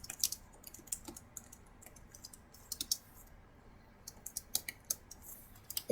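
Keys on a computer keyboard tapped while entering a password, quick irregular clicks in short bursts with pauses between, fairly quiet and close, no voices.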